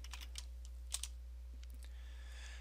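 Computer keyboard keys tapped while coding in a text editor: a handful of soft, close clicks scattered irregularly, including a quick double tap near the middle, over a low steady hum with no talking.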